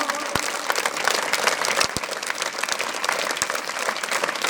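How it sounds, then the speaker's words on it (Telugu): A school audience at a Pada Pooja ceremony at Jayabharathi school claps loudly for the parents, dense continuous applause filling the hall with a few sharp, distinct claps standing out. "ఒకసారి మనస్ఫూర్తిగా మీ 2 చేతులు గట్టిగా ఒకసారి అమ్మకు నాన్నకి గట్టిగా క్లాప్స్ కొట్టండి"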